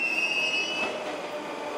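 A Moscow Metro train pulls into a station, its wheels squealing in a sustained high metallic whine over a loud, steady rumble of rolling railcars, heard close with no talking.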